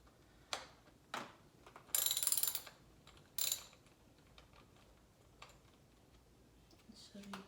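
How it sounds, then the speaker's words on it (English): A 10mm socket wrench ratchets loose the screws on an engine cover during a spark plug change. Several close ratcheting bursts are heard, one of them long and continuous, mixed with scattered clicks and faint mechanical handling noise. "I am going to use a 10mm socket wrench in order to take off the screws"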